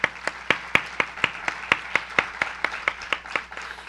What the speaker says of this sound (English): Would you please join me in giving them another round of applause?